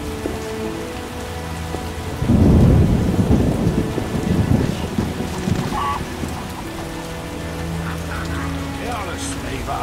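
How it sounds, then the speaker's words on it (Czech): Steady rain and a rolling thunderstorm in The Witcher video game, with a loud thunder rumble bursting in about two seconds and slowly fading under continuous rainfall. "Prší."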